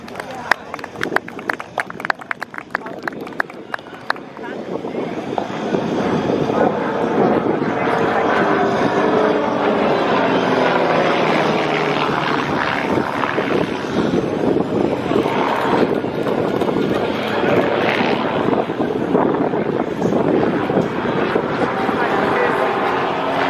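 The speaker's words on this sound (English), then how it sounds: "put your hands together for Bevan right in that beautiful Cobra" A Cobra aircraft flown by an unlimited aerobatic champion roars past at the Wings Over Wairarapa airshow, a loud sustained engine drone swelling after a few seconds and holding steady, with crowd and announcer talk underneath.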